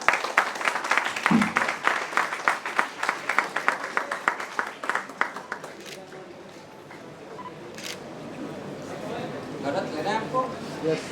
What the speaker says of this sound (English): Can I have a big round of applause for them?